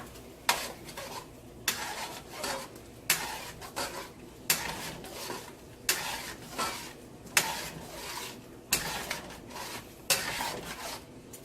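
Crayfish stirred into hot oil in a pot while cooking Efik okra soup: rhythmic scraping and clinking of a spoon against the pot in repeated strokes about once a second, with a faint sizzle beneath, close and moderately loud.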